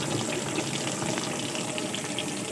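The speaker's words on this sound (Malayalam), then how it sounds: "വാഷിംഗ് മെഷീനിലേക്ക് ഓട്ടോമാറ്റിക്കലി വെള്ളം വന്ന് വീഴാൻ തുടങ്ങിയിട്ടുണ്ട്" Water flows automatically into the drum of a new LG washing machine, a steady, even gushing rush heard close and continuous throughout, with no talking.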